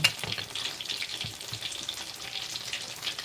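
Tilapia fish frying in hot oil gives a steady close crackling sizzle, with bright spitting pops throughout and a few soft stirring knocks, alone without speech.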